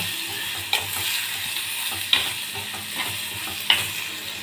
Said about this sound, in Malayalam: ഞാൻ ഒരു തക്കാളിപ്പഴം അരിഞ്ഞ് വെച്ചിട്ടുണ്ട് അതിട്ട് കൊടുത്തു എന്നിട്ട് ഇളക്കി കൊടുക്കുക